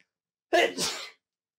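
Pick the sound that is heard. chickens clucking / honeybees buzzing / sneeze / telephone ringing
sneeze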